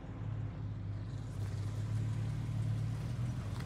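A small Porsche at a classic car rally drives past, its engine a steady low rumble that holds close and fairly loud for the whole stretch, with a slight swell toward the middle.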